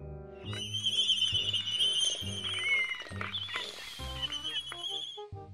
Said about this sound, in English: Albatross.